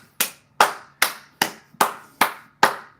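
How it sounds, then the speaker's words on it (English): A single person claps hard and loud, seven sharp, evenly spaced claps in a steady rhythm, close up and alone. "I'm clapping so loud it's annoying myself"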